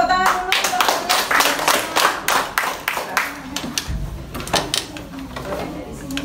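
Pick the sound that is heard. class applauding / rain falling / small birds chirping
class applauding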